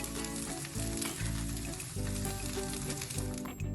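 Palak poha tikki shallow-fry in just a little oil, giving a loud, steady sizzle with crackling bursts that swell and ease in waves, close up and with no voices.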